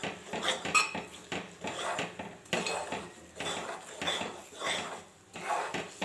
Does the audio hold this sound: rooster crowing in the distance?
no